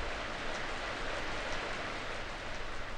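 Steady rain falls in an even, hissing wash, faint and continuous with no other sounds.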